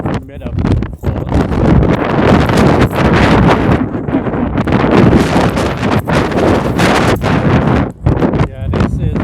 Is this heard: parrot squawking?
no